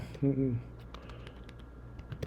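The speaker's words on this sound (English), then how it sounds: "I'm just typing these in right where it says edit text" Typing on a computer keyboard while entering text into an edit field, with light, quick, quiet key clicks close by, following a brief spoken word.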